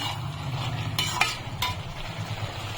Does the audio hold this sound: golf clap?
no